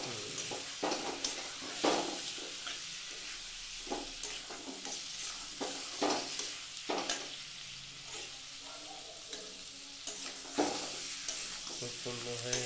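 Chicken frying in a pan with salt and turmeric for biryani, a steady sizzle broken by repeated scraping strokes of a spatula as the pieces are stirred, close and clear.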